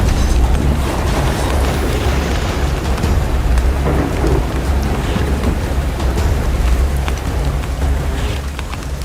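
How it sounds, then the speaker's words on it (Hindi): Heavy rain pours down continuously and loudly, with low thunder rumbling beneath the downpour. "बारिश ने रुकने का नाम नहीं लिया।"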